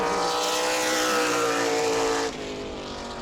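A super late model race car at New Smyrna Speedway roars loudly and steadily off a corner, its engine note sustained and close before dropping slightly in level near the end.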